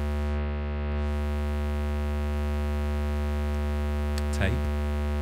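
A sustained synth tone in Arturia Pigments runs through hard-clip distortion. The steady, buzzy, harmonically dense drone holds for about five seconds with no voice. A brief swept blip sounds near the end.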